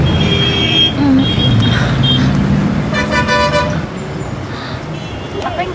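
Road traffic rumbles close by while car horns toot repeatedly, several short and longer honks layered over engine noise, with a voice briefly present.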